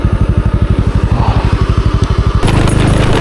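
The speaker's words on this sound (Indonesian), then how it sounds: "Kendaraan motor saya ini jalannya hanya begini nih teman-teman, sampai 10 km per jam, mengingat kondisi jalan yang bebatuan sangat tajam" A motorcycle creeps at about 10 km/h over a sharp, rocky macadam track in the forest on Mount Raung. The engine throbs in a steady, close, loud pulse that shifts to a rougher, busier note near the end.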